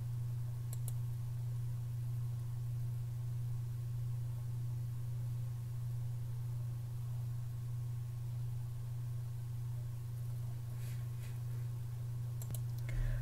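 A few faint, brief mouse clicks on a web form's Create button, heard over a steady electrical hum with no talking.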